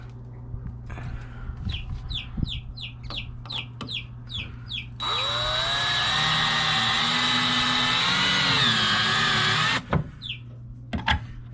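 Power drill driving screws into a homemade wooden chick brooder: short whirring bursts from a cordless drill, then one long sustained drive that rises and falls, with chicks peeping in rapid repeated chirps nearby.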